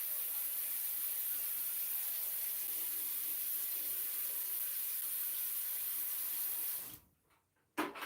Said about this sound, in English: A little dash of water just to sit in the base there so that my citric acid has something to sit in